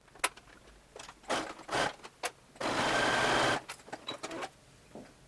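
A sewing machine stitching the lining of a fabric ear-warmer headband, short whirring bursts building to one longer steady run of stitching, close and clear with no talking.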